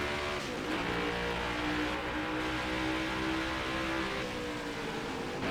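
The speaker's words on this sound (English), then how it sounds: "they got the deeper, throatier sound of the exhaust system into the game" A NASCAR Next Gen race car in the video game NASCAR Heat 5 revs with a deep, throaty exhaust note, pitch rising and falling over a few seconds, fairly quiet and without talk.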